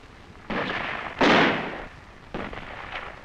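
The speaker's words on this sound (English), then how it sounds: "It was quickly met with small arms and mortar fire." Small arms and mortar fire from a 1963 Vietnam film of a Viet Cong ambush: three broad blasts of gunfire and explosion, the middle one loudest and longest-decaying, with dense noisy bursts and no talk.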